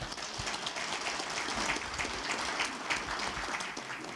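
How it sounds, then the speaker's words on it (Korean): A steady wash of applause from the audience at a Korea University labor culture award ceremony, applauding invited guests as they are introduced. Sustained and even across the whole stretch, with no voices heard. "큰 박수로 맞이해주시기 바랍니다"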